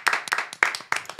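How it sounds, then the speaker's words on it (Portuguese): A handful of sharp, close hand claps from a small audience, about five crisp slaps in quick, uneven succession. "Vamos dar palmas aí."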